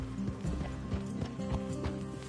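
Horse hooves clip-clop at a steady walking pace in Red Dead Redemption 2, fairly quiet and close, with a soft sustained musical tone beneath the footfalls.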